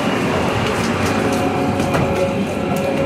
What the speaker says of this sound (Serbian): zašto ljudi tak ne pažljivo voze taj tramvaj?